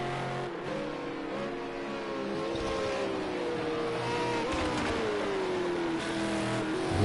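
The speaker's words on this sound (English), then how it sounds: "Love that exhaust spitting out the flames there though." Engine of a V8 Supercar at Bathurst, exhaust popping and spitting flames, a loud sustained racing drone that shifts pitch with gear changes and crackles throughout.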